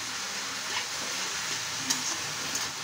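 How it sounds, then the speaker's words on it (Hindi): Cabbage, capsicum and beans stir-frying in oil for chow mein, a loud, continuous sizzle with a few brief stirring scrapes. "अभी हम अच्छे से वेजिटेबल्स में जैसे पत्ता गोभी है और शिमला मिर्च है बीन्स है इसको फ्राई कर रहे हैं अच्छे से ऑयल के साथ इसकी मिक्सिंग कर रहे हैं"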